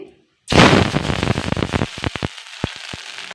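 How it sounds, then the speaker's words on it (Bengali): Water hits hot oil with cumin seeds in a pan, bursting into a sudden loud sizzle after a moment of silence, then fading into scattered crackles and pops. "জিরা দিয়ে পানি দিয়ে দিচ্ছি"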